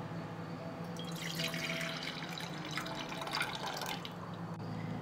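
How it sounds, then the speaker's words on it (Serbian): Lemon juice pours steadily into a jug, a continuous trickling splash with faint dripping, close and fairly quiet. "Zatim ću sok od limuna sipati u bokal."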